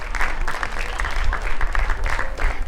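A crowd applauds for a children's folklore group at a Slovenian folk festival, dense even clapping holding at a steady loud level from start to finish.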